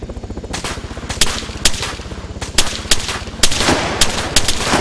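Rapid machine-gun fire in Arma 3 with combat sound mods, aimed at a helicopter, continuous bursts with louder individual shots punching through, mixed with a low droning rotor hum, close and loud.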